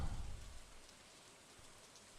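Rain in the video game Stardew Valley Expanded, a faint soft steady hiss of rainfall with a light low rumble at the start, heard alone with no talking.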